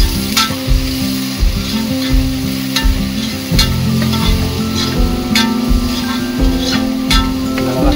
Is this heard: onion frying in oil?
yes